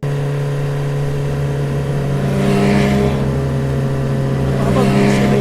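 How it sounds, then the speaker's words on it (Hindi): A cartoon car tears along at speed in a loud, sustained engine roar with a steady hum that swells and surges twice, driven hard and fast in anger. "बाबा गुस्से में गाड़ी को तेजी से भगाकर इवन लन के घर जाने लगते हैं"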